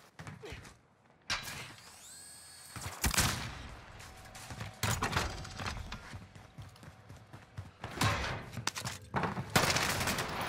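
Gunfire in the Warzone video game, rapid bursts of automatic shots and sharp cracks mixed with game effects, loud and close, coming in clusters over a few seconds.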